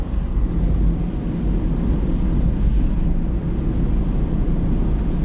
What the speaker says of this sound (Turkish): Son 3-4 gündür bayağı rüzgarlı. Fırtına derecesinde rüzgarlı.